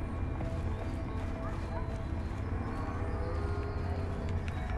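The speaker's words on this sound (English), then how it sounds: "How do you know they got horses in there? It's a horse barn, Leo." Horses moving inside a barn in the video game A Way Out, with soft hoof clops and faint whinnies under a steady low ambient bed; voices talk over it.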